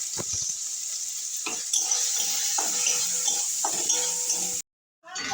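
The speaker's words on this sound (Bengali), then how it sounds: "কষানো হয়ে গেছে মশলার সঙ্গে দিয়ে আমি এবার নাড়িয়ে নিচ্ছি" Spiced eel curry stirred in a pan, a steady frying sizzle with scraping strokes of a spoon against metal, close and continuous, cutting out abruptly near the end.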